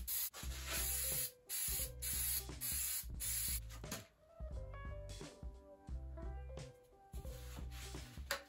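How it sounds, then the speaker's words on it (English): Spray adhesive hissing onto packaging foam in repeated bursts of roughly a second each, close and fairly loud, with short pauses between sprays. "I'm just using the spray adhesive"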